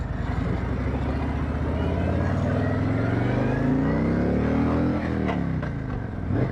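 A stock motorbike accelerates, its engine note climbing steadily in pitch, dipping and rising again, loud and close with a strong low rumble.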